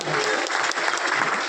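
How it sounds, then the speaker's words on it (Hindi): Loud, close applause from a seated audience at a product review gathering, continuous dense clapping throughout the short moment. "मैं चाहूंगा एक बार जोरदार तालियां होनी चाहिए।"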